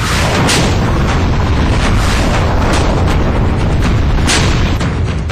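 Explosions from bunkers being blown up at a border post in Nowshera, Jammu and Kashmir, roaring as a continuous loud, dense rumble with repeated heavy blasts layered throughout.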